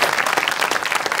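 Studio audience applause for Manaf Ağayev on a comedy show, a loud, steady wash of many hands clapping briskly for about a second.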